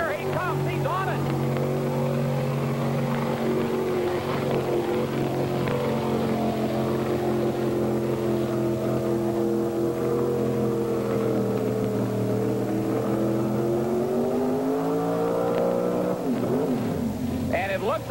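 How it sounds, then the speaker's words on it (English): A mud racing truck engine roars at high, strained revs for the whole stretch, pitch rising and wavering as it labors, tires losing grip, with voices faintly underneath at a 1989 mud race in Bloomsburg, Pennsylvania. "that engine was really screaming and the tires weren't going around near the end of the run"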